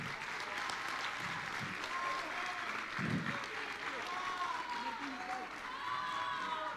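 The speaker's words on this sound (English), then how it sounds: "a round of applause to the group Inclusica" An audience applauds a student group at a school event about caring for the planet, steady clapping throughout with some crowd murmur and voices underneath.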